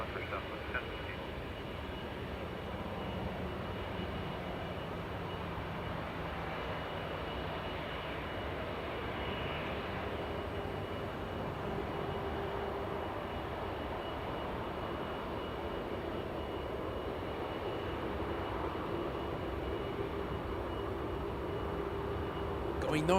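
A fixed-wing airliner performing a go-around at Los Angeles International Airport, its engines a steady, sustained broadband roar that swells slightly toward the end, with faint voices beneath.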